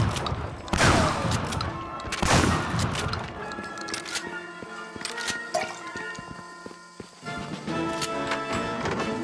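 Gunfire in Medal of Honor: Frontline on PS2, with two loud booming blasts early, then scattered sharp shots and clattering effects over game ambience.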